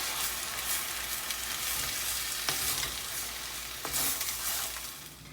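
Vegetables with green chilies and black beans sizzle steadily in a pan as a spoon stirs them, with a couple of sharper scrapes against the pan over a constant frying hiss.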